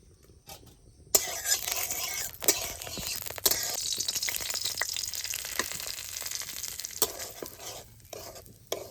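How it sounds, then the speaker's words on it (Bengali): Semolina frying in ghee in a hot wok, a bright steady sizzle that starts abruptly after a quiet second and carries on with stirring scrapes and clatters, close and loud. "কড়াই গরম হয়ে গেছে দিয়ে দিচ্ছি ঘি ঘি দিয়ে আমি সুজিটা বেজে নেবো"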